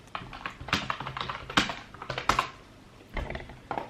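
Typing a search for FL Studio 20 into a web browser on a computer keyboard: a quick run of crisp, close keystrokes in uneven bursts, a short pause, then a few more taps, with no talking.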